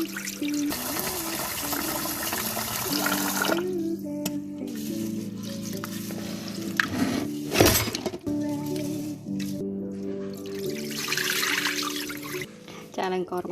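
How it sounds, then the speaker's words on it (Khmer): Rice washed in two or three changes of water while preparing chicken rice, with pouring and trickling, swirling grains and a sharp clatter near the middle, heard close up. "លាងអង្ករឲ្យស្អាតតែចំនួន2 3ទឹកសិនណាបងប្អូន"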